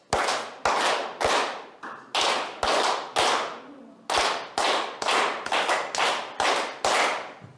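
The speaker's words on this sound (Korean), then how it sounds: "우리 치매 예방 박수 한번 치고 할까요?" A room of adult learners at a Confucian studies lecture claps the 3-3-7 rhythm for dementia prevention, sharp unison claps grouped in threes, then threes, then seven, loud and close with no talk.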